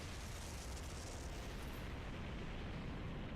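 A heavy, sustained roaring blast from Gawain's Galatine striking a fortress main gate in Fate Grand Order, a dense continuous rumble filling the whole span at steady loudness with no talk.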